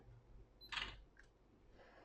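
A Canon PowerShot SX100 IS compact camera fires once at close range, a quiet electronic shutter click with a short beep-like tone, followed by a softer second click in a hushed room.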